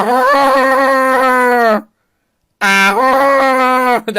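A chihuahua lets out two long, high-pitched whining cries, each held steady and separated by a brief silence, loud and close.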